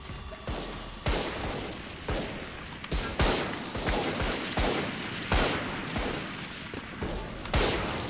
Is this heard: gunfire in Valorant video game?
yes